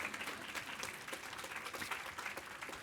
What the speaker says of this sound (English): You can clap. I love clapping.